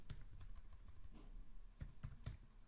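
Quiet keystrokes on a computer keyboard, typed in a few scattered clicks and short bursts with a couple of sharper taps near the end, close and soft with no talk.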